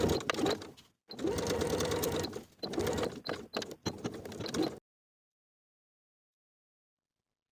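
A sewing machine stitches a seam on a wool jacket in a few close, steady runs broken by short pauses, then falls silent for the last few seconds.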